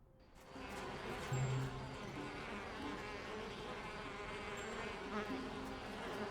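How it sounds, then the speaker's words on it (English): Bees buzz in a video game, a continuous insect drone of several bees holding steady throughout, fairly close and alone without any talking. "Bees like sweet smell, right?"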